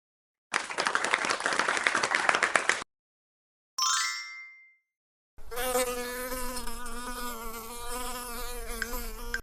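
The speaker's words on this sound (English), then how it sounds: "bee," A bee buzzes steadily for a couple of seconds, up close. A bright chime rings after it, then a sustained tonal sound follows.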